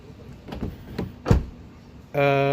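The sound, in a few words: Renault Captur car door opened then locked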